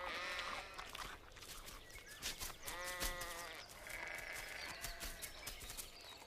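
Sheep on the open downs bleat repeatedly, several overlapping calls rising and falling close by over a steady outdoor background, with no talking.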